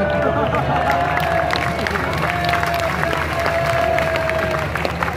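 Crowd noise and steady clapping from an audience at a circus show at the Chiniot fair in Pakistan, a dense continuous wash of applause and babble with a faint tonal line over it.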